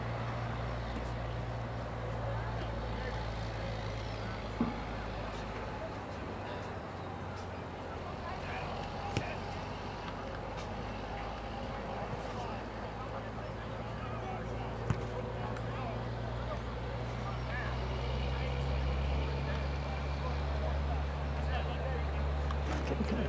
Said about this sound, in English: kind of tired of listening to that truck